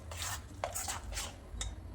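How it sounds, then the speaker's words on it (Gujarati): Ginger and green chilli paste being mixed into khaman batter made from soaked dal: soft, quiet, rhythmic scraping strokes of a spoon against a bowl, repeated several times with no talking. "બધું સરસ મિક્સ કરી લઈએ આદુ મરચાંને."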